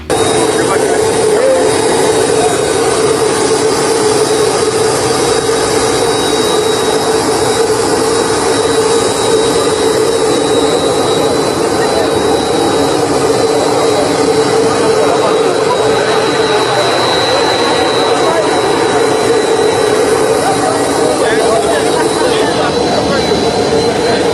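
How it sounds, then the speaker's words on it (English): A jet airplane landing at Abuja gives a loud, continuous, close engine roar and rushing noise that holds steady for about twenty-four seconds without letting up. "His plane touched down in Abuja."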